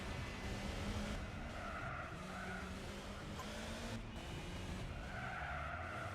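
A race car in the Gran Turismo 4 video game holds a continuous engine drone with sustained tire squeal and skidding, fairly quiet and unbroken, with brief dips in the engine note.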